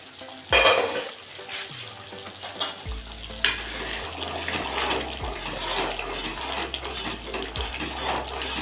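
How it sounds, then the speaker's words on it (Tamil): Garlic curry (poondu kulambu) is stirred in a pot after the lid is lifted, with scraping and clattering spoon strokes, a sharp clank near the start, and a low bubbling simmer underneath, with no speech. "திறந்து ஒரு இடம் கிளறி விட்டுருங்க"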